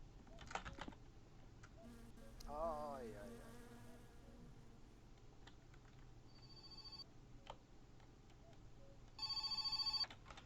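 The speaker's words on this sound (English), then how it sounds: "And the phone's going." A telephone rings in the video game My Summer Car, heard as a brief bright electronic ring near the end over a low steady game hum with scattered clicks and buzzing effects, with no talking.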